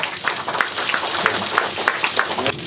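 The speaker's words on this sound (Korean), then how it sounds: "뜨거운 박수 부탁드립니다" Dense crowd applause at a political rally for Lee Jae-myung, many hands clapping continuously with a bright, rapid patter throughout.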